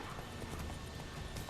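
Horse hooves clip-clop in The Witcher 3, a quick, even trot of muffled beats on ground, close and steady over a dense game soundscape.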